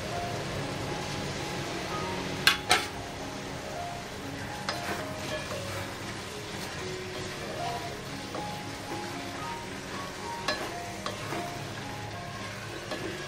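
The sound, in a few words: stirring peas and cauliflower frying in a pan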